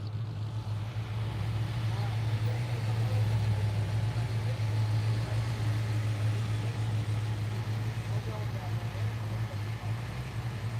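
Car traffic at the Adelaide Auto Expo during a Zippel Cruise arrival, a steady low engine drone of slow-moving vehicles running continuously and fairly close, with a busy background wash throughout.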